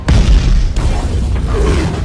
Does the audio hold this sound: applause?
no